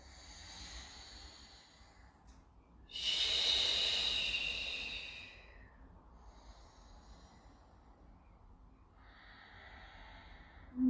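Slow breathing during a Pilates neck exercise: a long, strong, breathy exhale close by, followed by quieter hissing inhales and exhales, with no talking.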